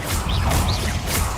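A Bombarda blasting spell exploding in Hogwarts Legacy, a loud, dense rumbling blast with whooshing swells, filling the whole short moment.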